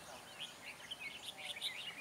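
Red-whiskered bulbuls calling at a bird trap, heard as faint, distant chirps and short tweets scattered over a quiet outdoor background.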